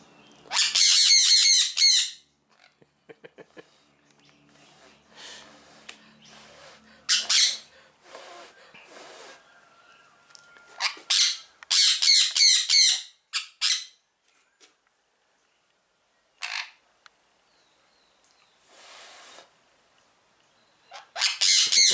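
Parrots in a Thai aviary squawk in loud, harsh bursts that come in clusters and repeat across the scene, with quieter calls and background sounds in the pauses between them.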